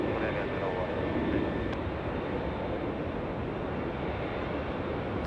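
A Korean Air Boeing 747 departs Los Angeles International Airport, heard as a faint, distant, steady engine rumble with voices in the background.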